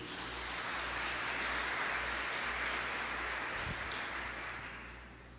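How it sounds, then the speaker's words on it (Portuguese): Congregation applauding during a church sermon, a dense, steady wash of clapping at moderate level that holds throughout and eases slightly toward the end, with a low hum beneath. "Vamos aplaudir ao Senhor por isso."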